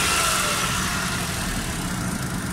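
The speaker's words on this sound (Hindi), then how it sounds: "ये देखें गाड़ी स्टार्ट हो गई है बिल्कुल माशाल्लाह" A Honda Dio scooter engine runs at a steady idle just after an engine replacement, a close, continuous mechanical drone with no break.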